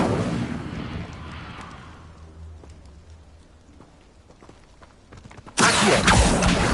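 Incendio fire spell cast in Hogwarts Legacy, a rushing fiery burst at the start that fades into crackling, then a sudden loud roar of flame near the end.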